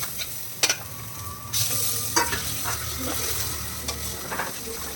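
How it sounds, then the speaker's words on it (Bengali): Oil sizzles steadily in a pan as fish roe fries with onion and chilli while a utensil scrapes and stirs in short bursts, with a few louder clanks. "পেঁয়াজ লঙ্কা দিয়ে ডিমগুলোকে দিয়ে একটু ভাজা ভাজা করে নিলাম"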